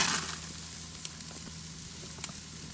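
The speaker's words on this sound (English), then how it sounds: "Our pork chops are cooking, and I'm gonna throw on our rub." Pork chops sizzle on a grill with a steady, soft, hissing crackle, broken by faint pops and one sharper crack near the end, with no one talking.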